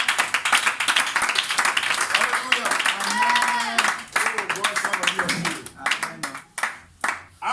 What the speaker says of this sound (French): Donnez-moi une acclamation à Dieu.